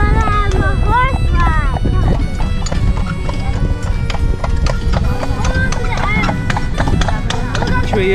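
Horse hooves clip-clop in a steady walking rhythm during a carriage ride through Killarney National Park near Muckross House, close and loud, mixed with wind and people talking over them.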